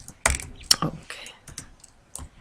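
Computer keyboard typed on while entering a formula in an Excel spreadsheet: a handful of sharp, uneven clicks and keystrokes close up, with quiet gaps between them.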